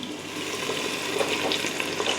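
Garlic and a tablespoon of Worcestershire sauce hitting hot oil with onions in an Instant Pot, producing a soft, continuous sizzle with small crackling pops and a faint stirring clatter, close and steady throughout.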